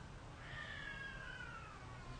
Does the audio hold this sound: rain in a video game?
no